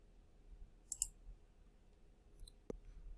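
A computer mouse clicking in a quiet room, a couple of faint, crisp clicks spaced apart over near silence.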